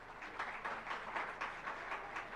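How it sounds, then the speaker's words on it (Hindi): Crowd applause at a Jain community gathering during donation announcements: a steady, fairly distant wash of many hands clapping, continuous and rippling for the whole stretch with no talk over it. "जोरदार तालियां।"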